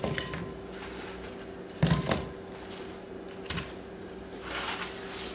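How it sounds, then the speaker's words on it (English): Cooked chicken wings placed into a bowl for tossing in garlic parmesan sauce, quiet kitchen clinks and knocks of bowl and utensils, a couple of sharper clatters over low hum. "I'm going to take the wings and I'm going to place them into the bowl"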